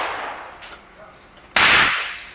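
A single sharp double-action gunshot cracks loudly near the end, standing alone after a quieter stretch of faint room noise.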